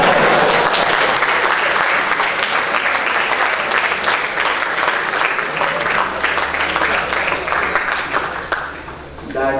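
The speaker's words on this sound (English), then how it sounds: "That 2-word answer is just enough to receive a big round of applause." A big round of applause from an audience at a campus faculty talk event at BITS Pilani, dense steady clapping sustained for nearly ten seconds at close range, fading slightly toward the end.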